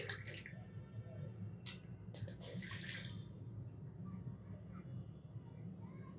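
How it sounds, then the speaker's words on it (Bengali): A tap runs into a sink while someone washes their face. The water makes a faint, steady rushing, with a few brief splashes on top. "এখন আমি মুখ ধুয়ে দেখাচ্ছি।"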